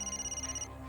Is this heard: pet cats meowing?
no